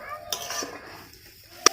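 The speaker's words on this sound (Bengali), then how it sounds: "এবার আমি জিরে সরষেটা দিয়ে একটু ভালো করে নাড়াচাড়া করে আর একটু কষিয়ে নেব" A utensil stirring a cumin and mustard paste in a pan, with quiet scraping, faint sizzle, and a sharp metallic clink near the end.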